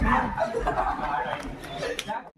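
A dog yaps and whimpers close by in short bursts, mixed in with people talking.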